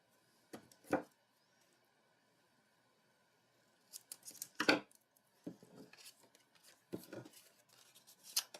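Scissors cut paper for craft gift tags, heard close as a single snip, a pause, then a busier run of crisp, irregular snips and rustles.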